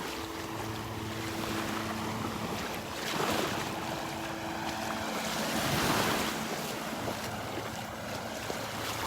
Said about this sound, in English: A little cloudy, a little churned up with these little waves here.